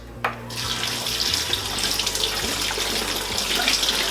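Wild blackberries are rinsed under a running kitchen tap, a steady close splash and hiss of water pouring into a sink, continuous and fairly loud.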